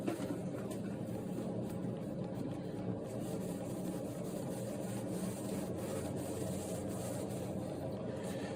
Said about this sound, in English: Turn over and we can now clean the soap dispenser.